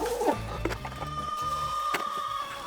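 Laying hens clucking inside a cattle panel greenhouse during winter: a few short, close clucks mixed with hollow wooden knocks and scraping.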